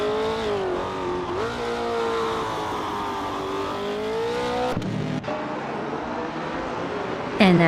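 A vintage 1970 McLaren M6 GT and rival cars in a racing video game roar off the start, engines droning loudly and rising and falling in pitch as they rev and shift, a sharp burst cutting in near the end.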